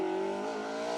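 A rally car on an asphalt stage of the Argyll Rally, Protyre Motorsport UK Asphalt Rally Championship, its engine holding a loud, steady tonal drone at close range for about a second with no talk.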